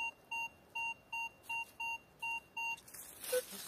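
A run of eight evenly spaced electronic beeps from a metal detector searching for gold in a forest, clear and close, followed by a brief scuffing noise.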